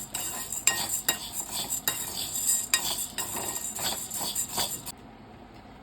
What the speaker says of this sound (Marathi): त्या कढईमध्ये मी एक वाटी साबुदाणे थोडेसे गरम करून घेणार आहे थोडेसे भाजून घ्यायचे